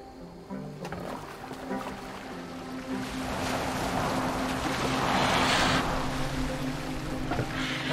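A boat sails across open water in Assassin's Creed Valhalla, with a continuous rush of waves and wind that builds gradually into a broad, steady wash, and no talking.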